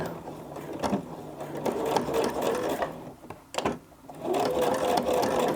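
Sewing machine running a basting stitch through regalia fabric, a steady close mechanical whir that stops briefly around the middle and then resumes, with no talking.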